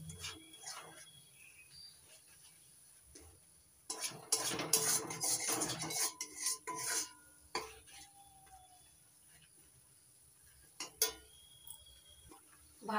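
A spoon stirs and mixes fish curry (doi katla) ingredients in a pot, producing scattered scraping and clinking bursts, busiest in the middle, with quiet pauses between.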